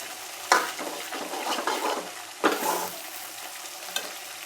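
Masala fries in oil in a pan while being stirred, with a steady soft sizzle broken by several scraping stirs and clacks of the spoon against the pan, close and without talk.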